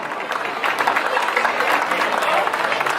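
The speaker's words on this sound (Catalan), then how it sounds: "Un fort aplaudiment per a rebre-lo i atengueu-lo." A crowd at a town festival in Gilet, Spain, applauds steadily, a dense wash of clapping that swells slightly after the first half second and continues evenly.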